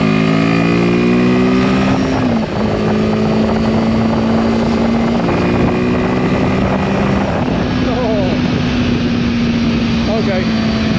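A Royal Enfield Himalayan 450 motorcycle is ridden at speed. Its loud, steady engine drone shifts pitch as the gears change, with wind rush all through and a rider talking over it.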